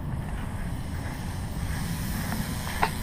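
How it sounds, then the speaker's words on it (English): An outdoor water misting system at an Arizona home sprays a steady, even hiss of fine water for the whole stretch, with no talking over it. "We have a misting system."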